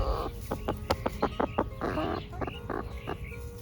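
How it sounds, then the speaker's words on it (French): A Brahma rooster and hens cluck close by in a rapid run of short, choppy calls, then a few drawn-out clucks, with no talk over them. "Le petit coq Brahma."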